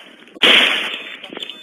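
A single loud gunshot bursts out close during a police shootout in Las Vegas, with a sharp crack that decays over about half a second while faint voices carry on around it.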